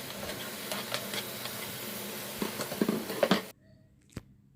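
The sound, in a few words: squid masala with tomato cooking and being stirred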